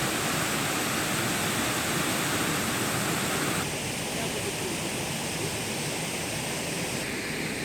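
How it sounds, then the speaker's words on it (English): Waterfall on Jeju Island roaring as a steady, loud broadband rush of falling water, continuous and unbroken throughout, with a slight shift in tone partway through and no other sounds standing out. "enjoy the scenery, the sights, and the sound of the waterfalls"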